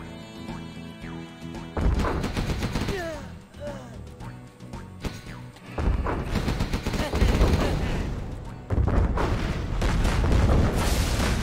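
Gatling gun barrage in Command & Conquer Zero Hour, dense rapid bursts of gunfire and crashing impacts that keep going across the whole stretch with loud surges, mixed with game voice lines.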